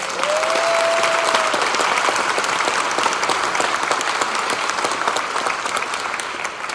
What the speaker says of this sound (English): So I think that's worth a round of applause.